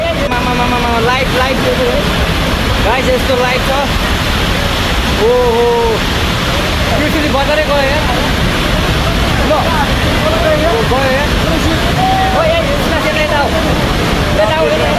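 Floodwater from a flash flood in Nepal, strong enough to carry off an iron bridge, rushes in a loud, constant roar throughout while someone talks over it.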